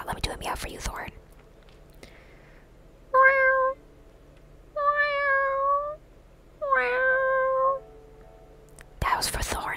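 A person gives three drawn-out, whispered-style meows in imitation of a cat, each about a second long with a gliding pitch, and quiet pauses between them. Soft rustling noises come at the start and end.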